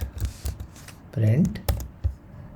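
Python code is typed on a computer keyboard in quick bursts of close, crisp key clicks, while a voice speaks at the same time.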